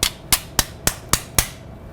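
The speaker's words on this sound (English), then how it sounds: "The anchor is then tapped down." Six sharp metallic taps at an even pace of about one every quarter second as a suture anchor is hammered down during a Broström ankle ligament repair, each strike bright and ringing with a short decay, no talking.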